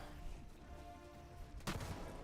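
Gunfire in the Helldivers video game, a single sharp blast crashing in near the end over a steady low game rumble, with no talk.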